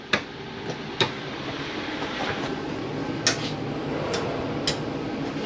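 An RV furnace runs inside a Jayflight SLX 237RBS travel trailer as a steady broadband whoosh and hum, with several sharp ticks and clicks scattered over it, fairly quiet and without talking.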